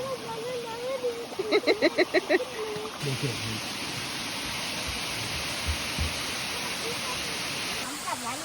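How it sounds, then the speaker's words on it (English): Steady broadband roar of a steep waterfall at Marcus Falls in Daniel Boone National Forest, continuous throughout and fairly close. A voice speaks briefly near the start, with a short burst of rhythmic sound early on. "This waterfall is very steep"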